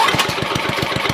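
An old Ariens rear-tine tiller engine, choke closed, chugs close and loud with rapid, even firing pulses, catching and running briefly after a pull start.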